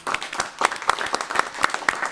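Sparse, uneven clapping from a small audience at a school board workshop, a few distinct sharp claps standing out over a quiet room for a couple of seconds.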